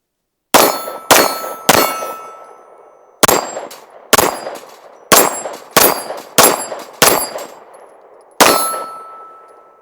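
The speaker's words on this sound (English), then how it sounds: "Let's do some more shooting with it." An Archon Type B Gen 2 pistol fires at an outdoor range, ten sharp loud shots spaced irregularly over about ten seconds, each followed by a short ringing decay, with no voices.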